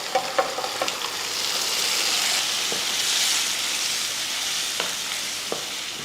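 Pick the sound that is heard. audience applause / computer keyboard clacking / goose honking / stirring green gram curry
stirring green gram curry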